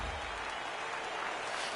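A baseball crowd rising to its feet on a sunny afternoon, steady diffuse applause and crowd noise throughout, moderately distant, ending with a sharp clap-like click.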